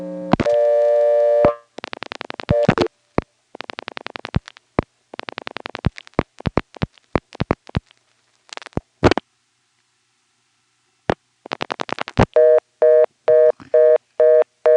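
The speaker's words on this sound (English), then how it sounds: "when I started dialing a number, suddenly the Siler NX1 reorder was right there" Telephone line on a Step-NX1 exchange in Siler City, North Carolina, 1977: a steady tone, then bursts of dialing clicks and tones, a pause, and a loud repeating reorder tone pulsing at the end.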